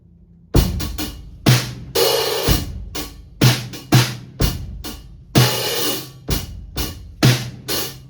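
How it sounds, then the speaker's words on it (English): A slow drum kit groove with kick, cymbals and a snare struck twice on 16th-note partials, repeating in a steady pattern, loud and close with no talking. "so the whole groove all together, played slowly, sounds like this."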